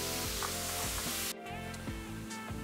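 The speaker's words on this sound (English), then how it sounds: "a little bit of oil, a little bit of pan frying." Mushrooms and onions with a little oil frying in a pan for a vegan beef Wellington filling, a steady close sizzle with a brief break partway through and faint stirring.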